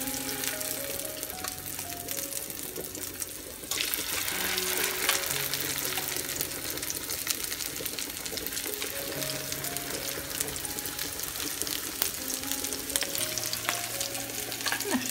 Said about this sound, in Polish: zaczynamy smażyć kotleciki.